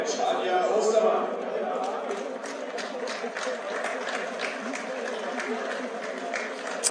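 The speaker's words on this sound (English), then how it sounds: "And a big round of applause here from the crowd lining the banks in Duisburg for the gold medalists." A crowd lining the riverbanks in Duisburg applauds the women's K2 200 m gold medalists at a canoe sprint World Cup, steady moderate clapping throughout, with an announcer talking over it.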